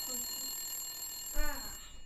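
An indoor telephone gives a short ring, a brief tonal trill that rises above a quiet room.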